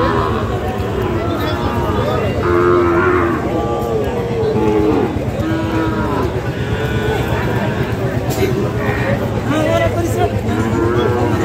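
A Sahiwal bull calf moos repeatedly amid a busy cattle market, its calls rising over a dense crowd of voices and livestock noise; people talk throughout nearby.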